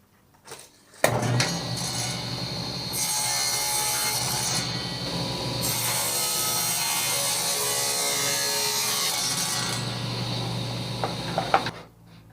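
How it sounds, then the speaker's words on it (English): A power saw set to half depth cuts a dado in wood for a carrier mount on a Husqvarna tractor, a loud steady whirring cut that runs about ten seconds between a sharp start and stop. "I have my saw set here now to cut half the thickness"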